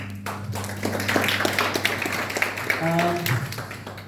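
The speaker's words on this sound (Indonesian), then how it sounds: "Kita beri aplaus ya." An audience at an Indonesian political talk gives scattered, moderately loud applause, heard as a rapid patter of claps alongside a low hum and voices.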